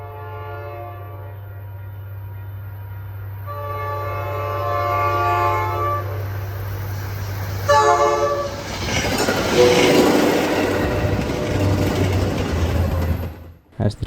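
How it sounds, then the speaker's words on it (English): An inbound commuter train in northern Massachusetts passes and pulls away, its horn blaring in several long blasts over rumbling wheels and clattering cars that fade toward the end. "here's a going away shot of an inbound commuter train"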